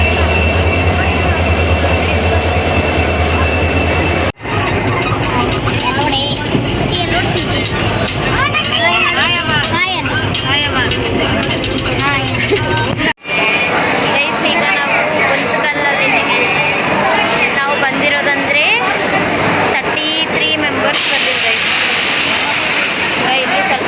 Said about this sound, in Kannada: ಗೈಸ್ ಟ್ರೈನ್ ಬಂತು